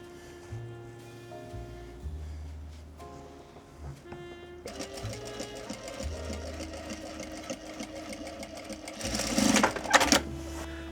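A sewing machine stitches a pocket facing on shorts in short runs of steady whirring and clatter, stopping and restarting several times, with a louder, busier burst near the end.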